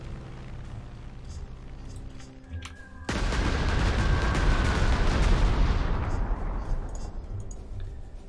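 Bombers strike in the Panzer Corps war strategy game, a loud, dense rumble of explosions and artillery-like blasts bursting in abruptly after a quieter stretch, then slowly thinning out near the end.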